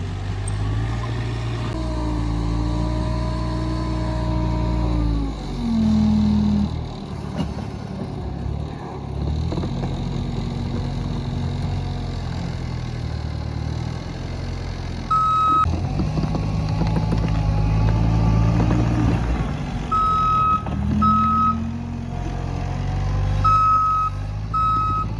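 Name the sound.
skid steer loader engine with reversing beeps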